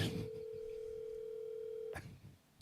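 A steady telephone tone hums on a single pitch for about two seconds while a call is placed, faint background noise and muffled rustle around it, ending abruptly with a click.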